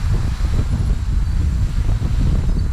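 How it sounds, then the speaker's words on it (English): Steady, loud wind buffeting a microphone outdoors while flying an MJX Bugs 3 quadcopter drone, a continuous low rumble with no pauses or other sounds. "Oh, it's pretty windy right now."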